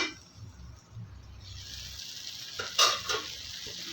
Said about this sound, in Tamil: கத்திரிக்காய் எல்லாம் வதங்கிடுச்சு